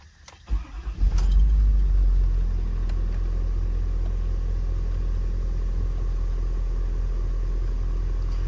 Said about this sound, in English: I'm going to hop in the truck, take it out for a drive.